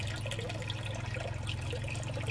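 A U-Flex siphon drains water from an aquaponics media bed with a continuous gurgling, trickling flow, steady and fairly close, without talk.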